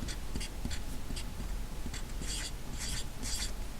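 Pen writing numbers on paper for an integer-chips math problem, a steady scratchy scrape with short strokes and bursts, close and continuous, with no talking.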